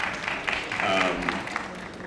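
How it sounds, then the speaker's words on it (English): A panel audience applauds at a community development conference in a brief, fairly soft burst of clapping that lasts about two seconds, with a voice faintly underneath. "Yeah, you can definitely applaud that."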